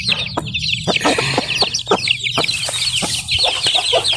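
Chickens cluck steadily at close range, with a dense mix of high chick peeps layered over the clucking from hens and chicks gathered together; the sound continues throughout without a break.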